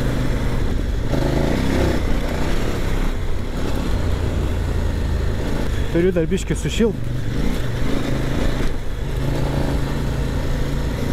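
KOVE 800 Adventure motorcycle engine running steadily while riding through a forest, a continuous low drone with a brief rise in revs midway, under a man's speech.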